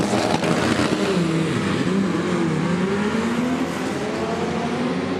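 V8 drag race car engine at full power on a drag strip, a loud, continuous roar with a rising pitch sweep as it accelerates, heard close and steady throughout with no talk.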